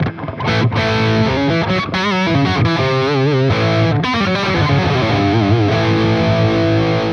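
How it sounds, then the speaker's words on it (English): Distorted electric guitar, a Fender Jaguar Classic Player Special HH, with a thick, rounded humbucker tone from the bridge pickup, playing sustained notes and bends continuously, loud and upfront. "Okay, humbucker, bridge pickup."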